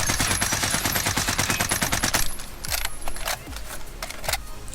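A C58 rifle fitted with a field agent grip fires a fast, steady automatic burst in Call of Duty Warzone, then several scattered single shots and short bursts follow, loud and close.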